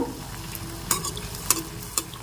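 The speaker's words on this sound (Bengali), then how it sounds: "মালপোয়াগুলো ভেজে নিচ্ছি।" Mango malpua batter frying in hot oil, a soft continuous sizzle broken by a few clinks and scrapes of a utensil, close by with no voices.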